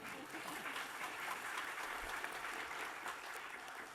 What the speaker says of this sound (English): Do you want to give it a clap?